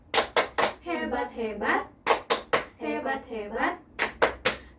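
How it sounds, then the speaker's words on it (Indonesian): A group of women performs the 'tepuk hebat' clapping chant: loud, crisp claps in quick bursts of three alternate with voices chanting in unison, repeating the pattern several times. "Sekarang kita tepuk hebat dulu ya buat Ibu Siti sama Bu Entin"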